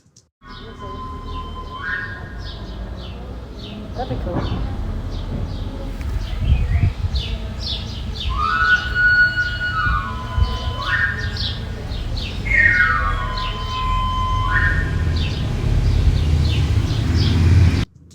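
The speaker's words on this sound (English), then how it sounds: "So the first is this slightly strange sounding ice cream van." A slightly strange-sounding ice cream van jingle plays at a distance, its tinny melodic phrases rising and falling repeatedly over a low rumble of traffic, with a brief spoken remark partway through.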